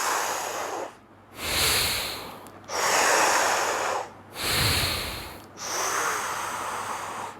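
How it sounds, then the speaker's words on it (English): Three slow, deep breaths drawn in through one nostril in yogic breathing practice, each a loud, close airy rush lasting over a second, separated by short pauses with no talking. "How to breathe? Breathe in."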